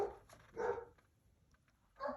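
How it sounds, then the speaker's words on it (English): Dog barking indoors during papercraft card making: three short, muffled barks with pauses between, fairly faint and heard from another room. "I don't know what the heck he's barking at"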